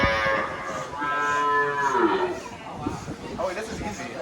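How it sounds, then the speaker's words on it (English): A cow on a Costa Rica farm moos loudly while being milked, one long drawn-out close call that bends in pitch, followed by softer rustling and faint voices. "Milking a cow."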